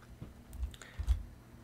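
A few soft, scattered keystrokes tap on a computer keyboard nearby, brief and quiet with pauses between them.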